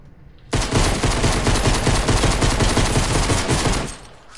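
Rapid, sustained video-game gunfire bursts in dense automatic volleys, loud and close, starting abruptly and running for about four seconds before cutting off.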